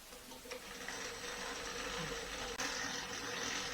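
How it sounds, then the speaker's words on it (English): A stand mixer kneading Neapolitan pizza dough at low speed gives a steady, continuous mechanical whir with a faint rhythmic rattle, close and constant throughout with no talk. "And then we start the mixer at a low speed for around"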